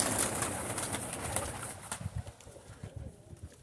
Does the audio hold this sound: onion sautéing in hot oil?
no